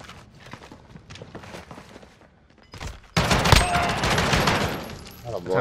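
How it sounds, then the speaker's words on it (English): Light, rapid footfalls of an enemy player in Modern Warfare's 2v2 alpha patter for about three seconds, then a sudden loud burst of sustained gunfire drowns everything out. "Time I actually heard his footsteps."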